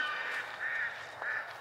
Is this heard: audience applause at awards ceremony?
no